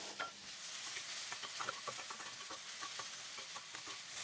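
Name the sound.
mushrooms browning in oil in a pan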